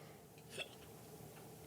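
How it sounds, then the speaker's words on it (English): A single short hiccup, soft and quick, heard once in a quiet indoor setting with no talking. "Now you got the hiccups."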